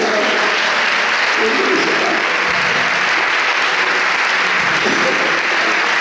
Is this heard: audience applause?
yes